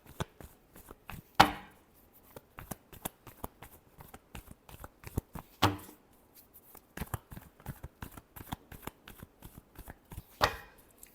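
Tarot cards being shuffled, a crisp run of papery riffling taps with a few louder slaps as the deck is squared, close and clear with no talking.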